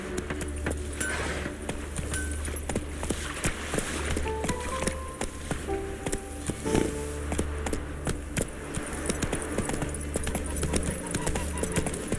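Roach, Geralt's horse in The Witcher 3, galloping with rapid, steady clip-clop hoofbeats over ground, close and continuous under ambient game sound and music, with scattered jangling.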